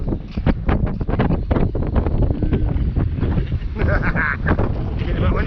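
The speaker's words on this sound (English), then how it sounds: "Getting a bit windy." Strong wind buffets an outdoor microphone beneath towering sea cliffs near Christchurch, a steady roaring rumble with gusty swells throughout and faint voices underneath.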